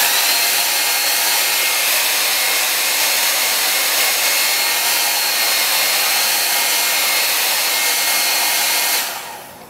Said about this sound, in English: get a hairdryer and you want to heat it for 15 to 30 seconds